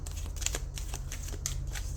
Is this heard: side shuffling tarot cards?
yes